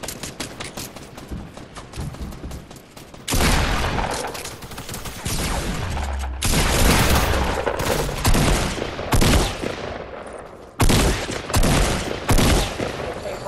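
Rapid bursts of FAMAS rifle fire in Fortnite, loud and close, broken into repeated volleys with short pauses, alongside other gunshots in a chaotic firefight.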